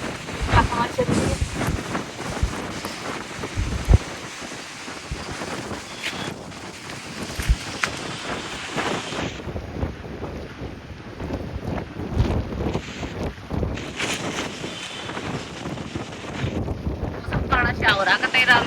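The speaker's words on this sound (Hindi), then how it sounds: "हवा चल रही है।" Wind gusts across an outdoor microphone, buffeting loudly in uneven bursts throughout, with people talking over the rushing noise.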